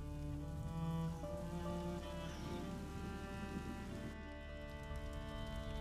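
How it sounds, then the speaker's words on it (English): Rain patters steadily in the video game A Plague Tale: Innocence, a constant hiss of falling water under sustained background music, with no voices. "would you mind if we get out of the rain, please?"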